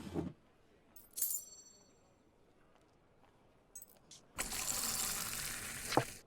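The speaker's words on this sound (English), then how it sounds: "A perfect pouring." A pint of beer pours from a tap in Fable 2 as a loud foamy rush near the end, after a quiet stretch with a few clinks and small glassy knocks.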